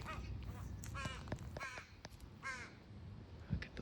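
Crows caw in a Seattle garden in August, a series of harsh, scattered calls from several birds at middling distance over quiet outdoor background, with no voices.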